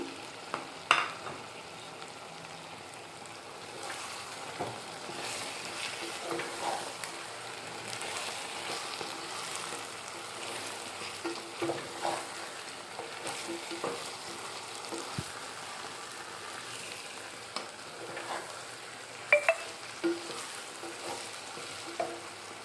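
Raw mango pieces frying in a pan for an Andhra-style elephant foot yam and mango curry, a steady soft sizzle with scattered stirring scrapes and clicks throughout, no talking.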